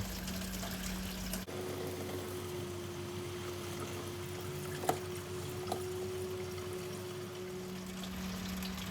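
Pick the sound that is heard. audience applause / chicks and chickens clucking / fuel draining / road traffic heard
fuel draining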